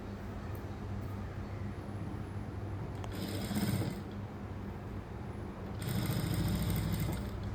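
A sewing machine stitches lined blouse pieces together, running in two steady whirring bursts with a pause between them, fairly close, with no talking.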